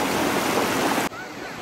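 Rushing water at Anguthi Sunai Falls, a loud continuous wash that drops off sharply near the end, leaving a quieter background.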